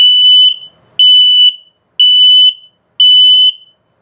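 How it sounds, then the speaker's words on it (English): An RV's combined LP and carbon monoxide detector sounds its low-battery alarm on a 2022 Flagstaff Super Lite 29RBS: four loud, piercing electronic beeps, each about half a second, evenly spaced one second apart, close and alone. "And then of course your low battery alarm,"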